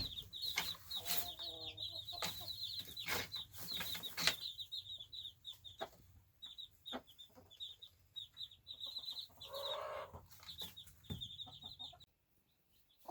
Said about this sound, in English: These are my jealous birds over here.